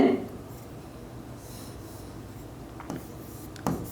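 A pen writes by hand on paper while a programming problem is solved, a soft, close scratching that continues through the stretch, with a few louder taps and a voice at the start and end.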